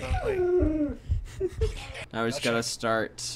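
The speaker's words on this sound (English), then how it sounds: "No, that was my dog." A dog whimpers and yips in short high whines near the start, close by, followed by people talking over the top.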